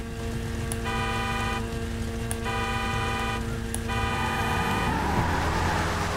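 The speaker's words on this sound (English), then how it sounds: "third honk" A car horn in the video game GTA 5 gives three long, loud blasts in a row. They sound over a continuous engine drone, with no one talking.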